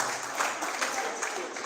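Audience applause at a conference fills a short stretch with a dense, even wash of many hands clapping, and a voice speaks briefly over it.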